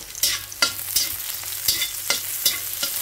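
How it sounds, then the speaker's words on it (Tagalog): Garlic and onion sauté in a pan, a steady sizzle under rhythmic stirring as a utensil scrapes and taps the pan every half second or so, close and clear, without speech. "ginisak ko yung bawang at saka sibuyas"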